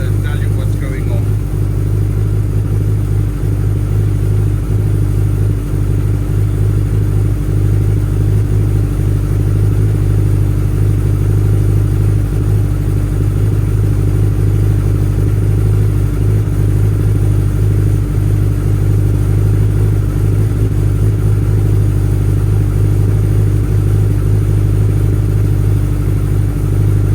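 A Suzuki Hayabusa motorcycle with a charging problem idles steadily close by, its low engine hum constant throughout, with a voice talking over it.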